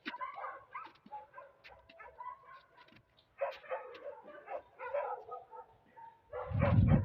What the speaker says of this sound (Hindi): क्या बेटा कहाँ से भौंक रहा है?